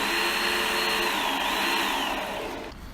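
A belt knife sharpener runs with a loud, steady motorized whir and an abrasive hiss, a faint pitch sweep drifting through it before the noise starts fading at the end.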